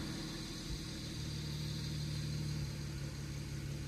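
A BMW car engine with crank-no-start faults and a recent oil cooler line failure runs at a steady low idle hum, constant and fairly even, with no clear revving and no talking.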